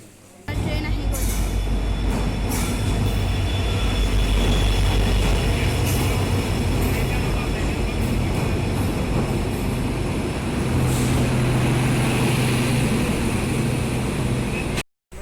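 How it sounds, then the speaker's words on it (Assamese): A train pulls into a nearly empty railway station at Diphu, its loud steady rumble and rolling wheels filling the scene at close range, with a horn-like tone standing out above the roar. "ট্ৰেইন আহি গ'ল।"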